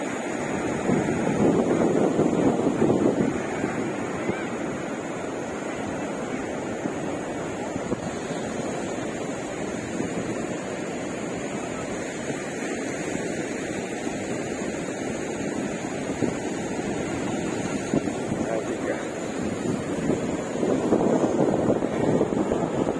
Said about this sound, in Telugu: కెరటాలు అన్ని కూడా వస్తున్నాయి చూడండి